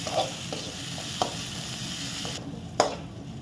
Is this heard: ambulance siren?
no